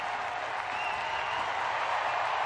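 Crowd on its feet cheering at the CrossFit Games men's clean ladder as an athlete approaches a 380-pound barbell, a dense, steady roar of cheers and applause that builds slightly, filling the arena.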